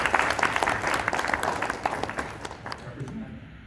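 An audience at an esports award speech claps in a brief, lively round of applause that tapers off within a few seconds, with a voice talking over it.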